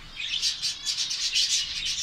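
Pet finches bathing in a water dish give off a steady run of high, bright chirps and tweets, close and fairly continuous over a couple of seconds, with faint wing flutter beneath.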